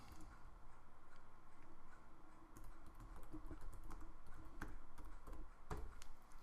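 Quick, light clicks of keys on a computer keyboard as a name is typed, irregular taps that grow busier toward the end, close and quiet.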